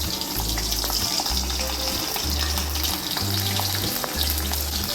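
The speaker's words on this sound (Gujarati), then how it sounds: "એટલે આપણે જીરુંનો જ વઘાર કરીશું ખાલી" Cumin seeds and potato chillies crackle in hot oil for a tempering, a steady, loud, dense sizzle that runs unbroken, with a low rhythmic hum pulsing underneath and no voices.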